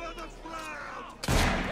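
A sudden loud blast of gunfire from Assassin's Creed Syndicate bursts in near the end, following a stretch of muffled talk and background noise.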